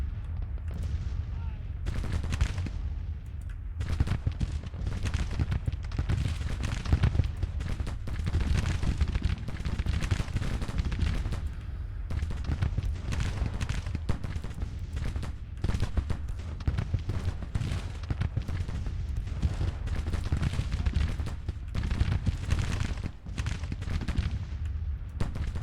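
Artillery bombardment in the Civil War strategy game Grand Tactician: The Civil War, with dense, continuous cannon fire and heavy booms layered over one another, rolling without pause at a loud, steady level.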